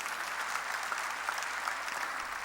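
A church congregation applauds during a Korean sermon, a dense, steady patter of many hands clapping at a moderate distance, with no talking over it.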